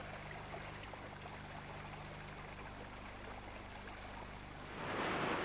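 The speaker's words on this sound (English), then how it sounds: "Now the water is rolling down the empty riverbed, down towards the herds which are coming this way." Flash flood water from a freak storm rolls down an empty, dry riverbed in wildebeest country. A faint, steady rushing and trickling flow continues throughout, then swells into a louder surge in the final moment.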